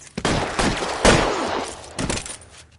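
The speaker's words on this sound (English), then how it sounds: "211 and shots fired" Shootout gunfire in a police radio drama: a few sharp, loud shots spaced across a few seconds, each with a short ringing tail, heard alone without voices.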